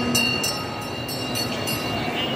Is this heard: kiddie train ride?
yes